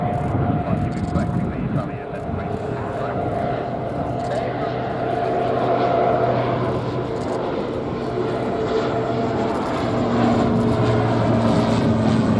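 Spartan military cargo aircraft at the RIAT 2024 airshow, a loud continuous droning propeller engine roar with steady tonal hum, people talking over it.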